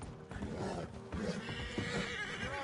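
A horse in Red Dead Redemption 2 gives a drawn-out neigh and whinny, loud and close, over the game's ambient sound.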